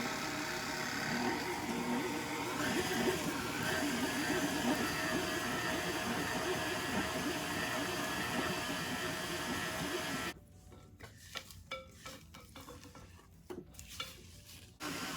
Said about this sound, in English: we're going to cream these on medium speed until they're fluffy